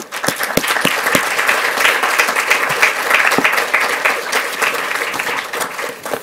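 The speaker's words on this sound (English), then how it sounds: "One more round of applause." A room at a school board meeting gives a loud, sustained round of applause, with sharp individual claps standing out from the steady crowd clapping before it ebbs at the end.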